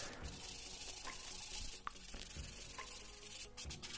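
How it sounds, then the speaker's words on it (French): Sandpaper rubs in quick, repeated strokes along the leading edge of a Depron foam wing for a small Drake model plane, played back sped up, a soft rasping that is close and alone. "Une fois que c'est fait, je vais l'affiner au ponçage."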